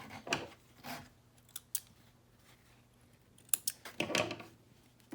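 Scissors snip loose fabric threads on a handmade sling, a handful of short, close crisp cuts in irregular bursts separated by quiet pauses.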